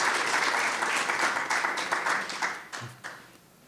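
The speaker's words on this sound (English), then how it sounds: "let's give a round of applause to" Audience at an academic colloquium applauds after a session, dense sustained clapping that thins and fades out near the end.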